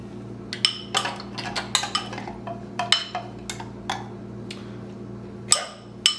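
Spoon clinking against a Cuisinart food processor while plum tomatoes are added for guacamole, a string of sharp metallic taps and scrapes, some doubled, over a steady low hum.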